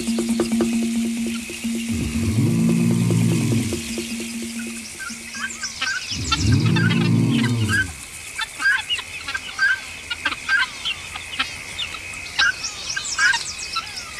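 Guinea fowl give loud alarm calls in two rising, swelling bursts of harsh cackling, with smaller bird chirps and twitters scattered around them in the open bush.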